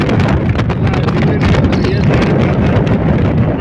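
Strong, steady wind buffets the microphone during a long road ride in the Andaman Islands, a loud continuous roar with no clear breaks.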